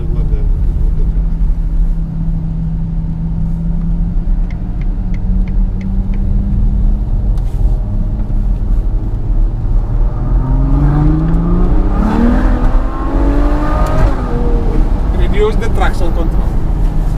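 A Ferrari GTC4 Lusso V12 roars loudly from inside the car, its engine and exhaust pitch climbing through several rising sweeps as it accelerates hard, with a brief voice underneath.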